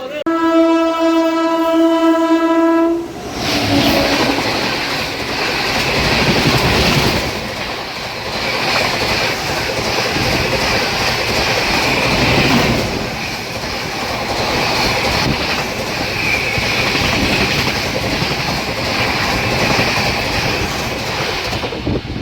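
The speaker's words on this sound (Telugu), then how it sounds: "ఫలక్నామా వస్తుంది, క్రాసింగ్ చూద్దాం ఒకసారి" Falaknuma Express rushing past a level crossing: a loud horn blast opens, then a steady roar of wheels and wagons with rhythmic clatter that stays close and sustained to the end.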